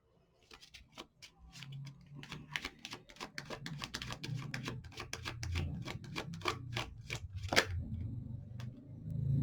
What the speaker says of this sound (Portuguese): Deixa eu me concentrar aqui para começar a embaralhar